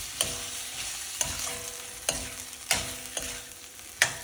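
Tomato being fried and stirred in oil with ginger garlic paste for a chicken curry: a continuous sizzle broken by five or six sharp spatula scrapes against the pan, close and fairly loud, with no talking.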